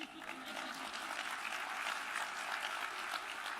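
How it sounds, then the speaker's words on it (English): Audience applause at an awards luncheon after a symphony performance, a steady dense wash of clapping heard from a distance, fairly quiet and unbroken. "You can clap for them."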